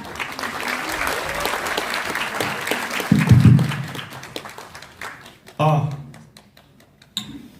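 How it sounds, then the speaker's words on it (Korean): Crowd applause at a Korean political rally welcoming a youth committee chair to speak, steady clapping that fades out, with voices and a few loud thumps breaking through near the end. "여러분 큰 박수로 모시겠습니다"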